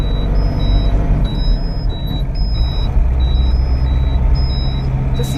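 A Tata LPT 1216 truck on the move, its turbocharged diesel engine giving a steady, loud drone with a rhythmic high beeping pattern repeating over it and no talking.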